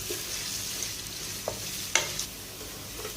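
Steady sizzling of onion, garlic and ginger frying in a hot pan over high flame, with a few sharp clicks of stirring against the pan.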